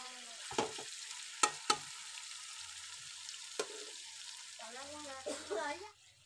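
Food fries in a pan with a soft, continuous sizzle, broken by a few sharp clinks of a spatula being stirred, and a brief voice near the end.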